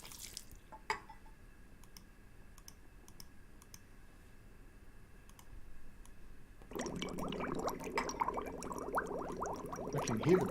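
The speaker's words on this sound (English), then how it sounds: "I can hear the bubbling." Bubbling water in a horror video game, a dense wet burble swelling in partway through and continuing loud to the end, after a stretch of quiet clicking.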